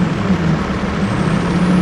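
A Duramax diesel pulling truck from Hutchins Diesel Performance revs hard at a truck pulling event, a loud, steady, close engine roar with deep low rumble that holds for about two seconds with no talking.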